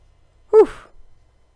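Single short sheep bleat from a survival video game in hardcore mode, a brief clear voiced cry with a falling pitch, close and alone against silence.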